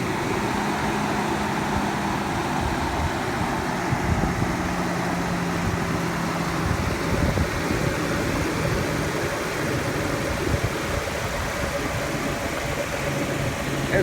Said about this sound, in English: Right now we're going to crank up the motor.